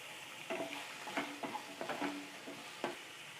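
Tomatoes fry in a pan for masala pasta. A steady soft sizzle runs underneath while a spoon scrapes and stirs in several distinct strokes, close and moderately quiet, with no talk.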